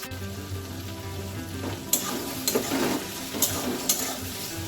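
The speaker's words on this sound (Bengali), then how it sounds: "আলু, পেঁয়াজ আর টমেটোটা ভালো করে ভাজা হয়ে গেছে" Potatoes, onions and tomatoes fry in a pan for an egg curry, a continuous sizzle broken by several sharp scraping knocks of a spatula stirring against the pan.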